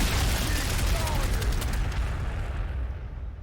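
Frag grenades burst in Warhammer 40,000: Sanctus Reach with the Space Wolves, a loud, dense rumble of explosions and crackling blasts that fades toward the end.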